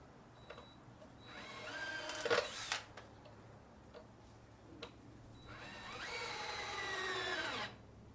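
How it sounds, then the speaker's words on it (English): A power drill backs lag bolts out of a printer stand in two rising whirring bursts with a pause between them, close and moderately loud, with a few clicks and knocks in the gap. "what I'm doing now, just to make it easier, is I'm backing out the lag bolts so we can stabilize the stand."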